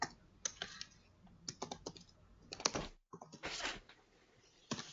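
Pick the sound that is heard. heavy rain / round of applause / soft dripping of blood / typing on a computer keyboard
typing on a computer keyboard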